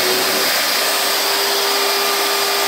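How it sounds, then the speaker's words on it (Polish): A Carmen Plus steam cleaner runs its vacuum suction with a loud, steady, close whine and a constant hiss, no voices over it. "Odkurzacz."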